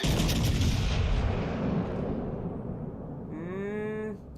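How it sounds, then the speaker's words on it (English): Battleship guns firing shells in World of Warships Legends, a loud booming salvo that rolls out into a long fading rumble, followed by a brief rising electronic game tone near the end. "I think we're still going to hit with the majority of those shells"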